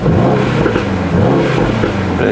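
A Mercedes-AMG GT63 engine revs loudly and continuously up close, its exhaust rumbling with crackles and pops.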